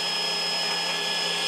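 Stepper motor rotorverter generating 240 volt power, giving a steady, close whirring drone with a constant high whine and no voices.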